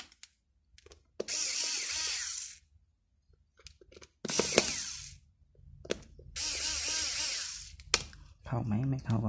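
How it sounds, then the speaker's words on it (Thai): Nuts being run down on a Penn Longbeach 60 fishing reel with a small power driver, three bursts of whirring buzz with short clicks and clatter between them, close and fairly loud. "กลับมาไล่น็อตทั้ง4จุด"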